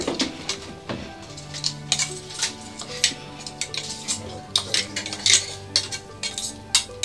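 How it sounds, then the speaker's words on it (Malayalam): Small fish are mixed with kudampuli tamarind water in a bowl, producing repeated light clinks and scrapes of a spoon against the dish at an uneven rhythm, close and fairly quiet. "കൊടമ്പുളിയും അതിൻ്റെ വെള്ളം കൂടെ ഇതിൽ ഒഴിച്ച് ഒന്നിച്ച് മിക്സ് ചെയ്യുക"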